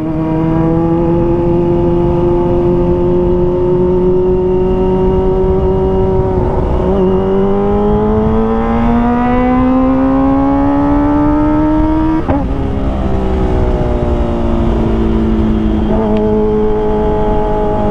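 A Kawasaki ZX25R motorcycle revs hard while riding past a crowded bridge hangout of motorcyclists, its high engine whine climbing and dropping through repeated throttle blips, loud and close throughout.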